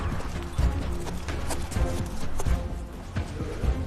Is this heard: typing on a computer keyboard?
no